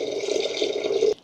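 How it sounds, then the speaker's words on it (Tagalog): Water is poured steadily into a pot of rice for cooking, a close continuous splashing trickle that cuts off abruptly at the end. "saka tayo magdadagdag ng sapat na tubig para sa ating sinaing."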